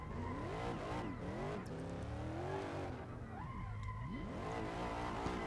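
A Chevrolet Corvette HGK drifts at Long Beach in Assetto Corsa, its engine revving up and down in sweeping pitch changes over a constant tire squeal, loud and continuous throughout.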